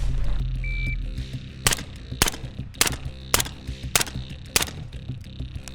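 Rapid gunshots fired during shooting practice with a red dot sight, six or seven sharp loud cracks in a quick, slightly uneven rhythm over a steady background hum.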